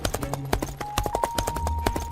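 Horse hooves clip-clop in a steady, close rhythm as a king rides to Malkapur in a Hindi moral story, with a faint sustained tone in the background and no speech.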